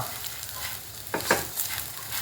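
Chutney ingredients sizzle and crackle softly as they roast in a hot pan, with a couple of scraping stirs partway through.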